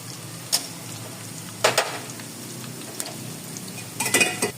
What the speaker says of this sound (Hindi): देखिए कितना ज़बरदस्त तड़का बन गया है